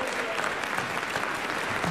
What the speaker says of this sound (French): à notre public qui va applaudir